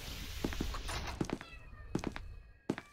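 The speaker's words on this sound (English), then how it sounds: "I heard a cat." A cat meows a few times indoors, short faint calls mixed with light thumps and footstep-like knocks, quiet and somewhat distant.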